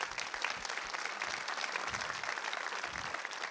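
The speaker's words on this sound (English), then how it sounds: "Let's clap for that." Audience applause after a purpose-driven marketing talk about conquering cancer, a steady wash of many hands clapping that holds at even loudness throughout.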